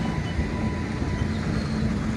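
A train rolling along the railway, heard as a continuous low rumble with a faint tonal hum, steady throughout and fairly close.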